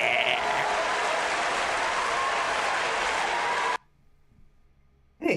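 Audience hand claps for a speaker at a senators' event on legalizing marijuana: a dense, steady burst of applause for nearly four seconds that cuts off abruptly into near silence.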